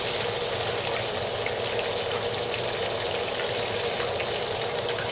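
Catfish nuggets and whiting fillets fry in hot oil in a small home fryer, giving off a loud, constant crackling sizzle that stays even throughout.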